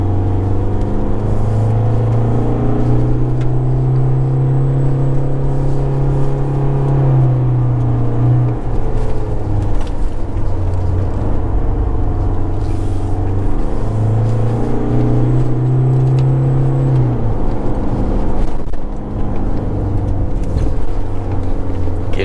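A 2023 Isuzu D-Max X-Terrain pickup driving uphill on a mountain road, its engine droning steadily with two rising-then-dropping surges as traction control intervenes, no talk over it.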